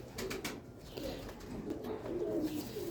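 Breeder pigeons coo softly in a loft, low rolling calls that repeat under a rustle of wings and faint taps close by.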